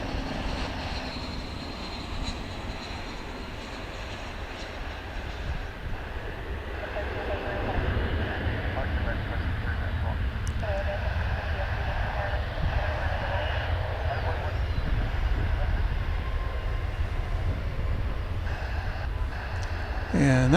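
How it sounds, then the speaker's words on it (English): A Boeing 777 airliner at DFW International Airport in foggy weather, bound for Seoul: a steady, broad engine roar that builds slightly and holds over about twenty seconds, with distant rumble. "that was a 777, which is going to be on its way to Seoul"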